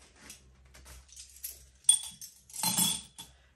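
Large and small metal spoons clink and rattle against each other in a few short bursts, close by, with quiet handling sounds between.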